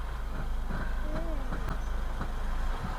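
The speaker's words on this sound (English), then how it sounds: "That is an unhappy engine," A car engine labours unhappily from inside the vehicle, a steady low rumbling drone with faint rhythmic pulsing and a few brief squeaky tones over it, continuous and moderately loud throughout.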